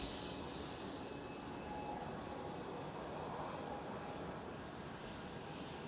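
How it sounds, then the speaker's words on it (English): A Finnair Airbus A350 airliner at Schiphol airport gives a steady, distant engine roar that holds level and broadband throughout, with no voices. "there is Finnair A350."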